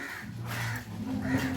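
A crow caws twice, harsh and nasal, fairly close over a low background murmur.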